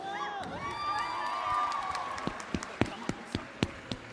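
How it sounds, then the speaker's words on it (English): An audience at a live comedy game show whoops and cheers, then breaks into scattered, sharp claps that grow sparser toward the end, fairly close and loud. "Round of applause."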